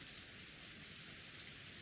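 Rain and typhoon wind outside in the game Umineko form a faint, steady broadband hiss with no distinct drops, continuous through the short stretch, with no talk.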